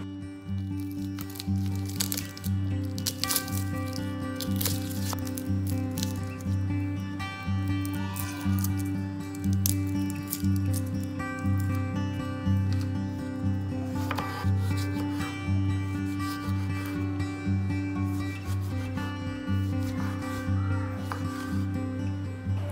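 Knife cutting an onion and tomatoes in a home kitchen, soft repeated chopping and rubbing sounds over a steady low background hum throughout.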